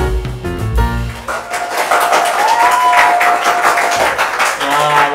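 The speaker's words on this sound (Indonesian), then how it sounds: "Ini tepuk tangan yang saya kangen-kangen, yang saya tunggu-tunggu dari teman-teman Nongki." A podcast's studio audience claps in sustained applause lasting several seconds, with a voice and tonal sounds running over the clapping.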